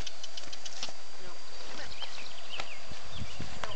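A Haflinger horse walks along a forest trail, hooves clip-clopping in a loose, uneven rhythm that grows clearer and closer toward the end, over faint outdoor background noise.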